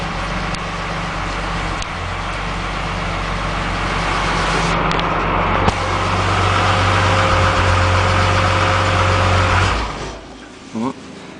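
A Mercedes W108 car engine idles steadily with a low, even rumble, then dies down near the end.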